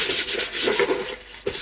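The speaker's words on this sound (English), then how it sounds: "we'll scuff the heck out of this thing" A painted object is scuffed hard with abrasive to distress it, making a loud, continuous, close scratchy rubbing sound in quick back-and-forth strokes.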